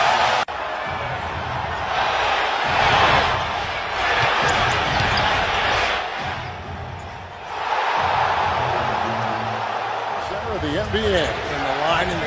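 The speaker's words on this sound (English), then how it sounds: "Right here, you see the crowd getting excited" A crowd in a basketball arena, at a Lakers-Clippers game, roars in swelling waves while a commentator talks over it. Ball bounces and squeaks come through now and then.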